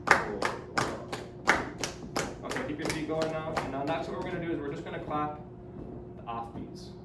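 Several sharp claps from a group in a jazz counterpoint workshop ring out in quick succession, then someone talks over fading claps and the room.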